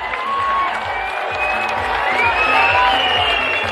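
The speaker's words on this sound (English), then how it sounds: "Big round of applause for both of these warriors." A boxing arena crowd cheers and applauds after a world title fight, with whistles and shouts cutting through steady, loud clapping that holds throughout.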